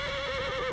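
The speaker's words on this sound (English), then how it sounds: "From the far side of the corral, the oldest mare screamed and reared" A mare screams in a brief, shrill whinny, loud and held steady, standing alone as a sound effect in a spooky mountain horse-corral scene.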